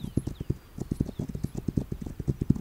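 A horse in the video game This Land Is My Land trots with a steady, rhythmic clip-clop of hooves, moderately loud and continuous over faint background game ambience.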